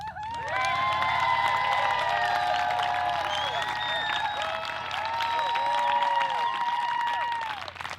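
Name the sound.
audience applause after an ordination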